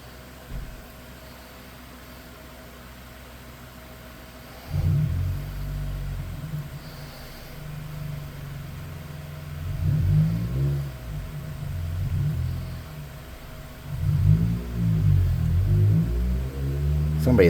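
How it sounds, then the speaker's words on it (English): A car with a leaking muffler or exhaust revs outside: steady low background hum, then from about five seconds rough, rumbling engine swells rise and fall in several bursts, moderately loud and somewhat distant. "I think they got a leak in their muffler or their exhaust."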